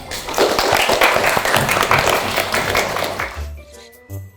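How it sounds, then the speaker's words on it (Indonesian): Applause on a children's film program, praising a child's handmade project: brisk clapping for about three seconds that then fades out, leaving near quiet with a brief low thump. "Tepuk tangan untuk hasil karya adik."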